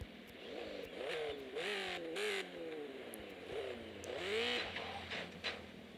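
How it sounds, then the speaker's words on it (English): Xiong Long motorbike engine in Gangstar Vegas revving repeatedly, rising and falling in pitch through several throttle surges, loud and steady with no talk over it. "I will do it with a Xiong Long bike"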